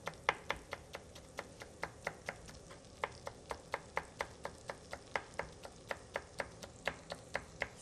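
Green chili peppers chopped into small pieces with a knife on a board: a fast, even series of crisp, close knife taps, about three per second, continuing steadily throughout with no voices.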